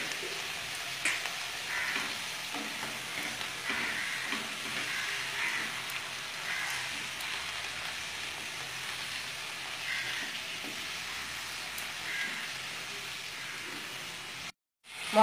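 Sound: cabbage and potatoes sautéing with spices in pan

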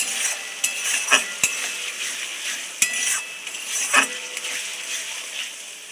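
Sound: stirring onion pieces into chicken curry spice mix

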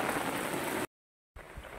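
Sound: rain falling on garden plants

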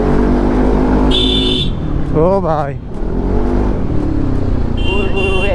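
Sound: Yamaha Aerox 155 scooter revving with Akrapovic exhaust

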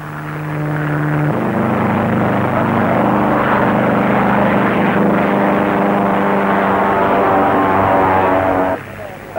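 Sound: Granville monoplane aircraft engine in flight

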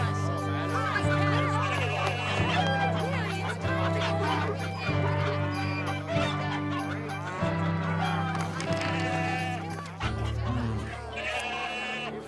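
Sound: birds and animals in a temple market

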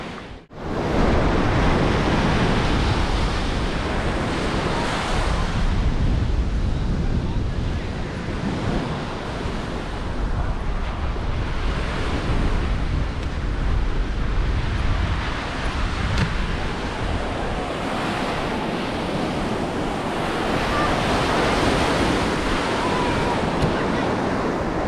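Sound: wind and waves on a Lake Michigan beach

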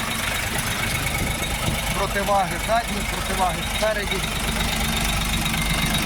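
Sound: small tractor with KM 385 engine running

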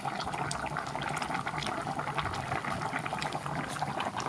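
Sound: pork bones boiling in water

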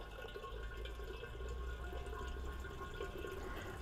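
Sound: water poured into a toy steam engine boiler

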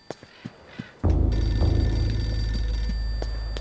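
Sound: telephone ringing, Eternal Darkness video game

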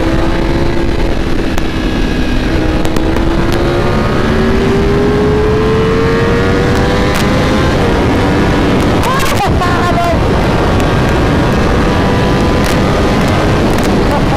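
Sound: Ducati V4 Speciale motorcycle riding at top speed

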